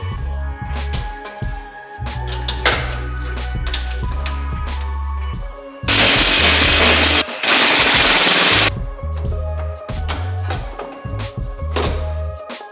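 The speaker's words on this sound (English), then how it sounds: "Got one more to rivet." A rivet tool sets rivets into the front end of a widebody FRS car, making loud, rapid mechanical bursts and clunks, with one sustained harsh stretch of noise in the middle.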